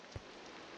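Rain falls in a Minecraft game world, a steady, quiet hiss that holds evenly throughout, with one soft low thump near the start.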